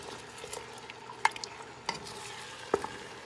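A spoon stirs spicy pork ribs with soy sauce and brown sugar in a pan, making a low, steady sizzle broken by three sharp utensil scrapes against the pan.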